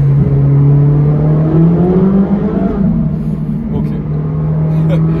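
Ferrari 458 Speciale sports car in race mode, its engine droning steadily and rising gently in pitch under light throttle, heard from inside the cabin, with a brief spoken word.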